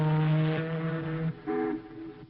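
A voice imitates the horn of an ocean liner, 1950s style: two long, low, loud hooting blasts separated by a short gap, with no talk alongside.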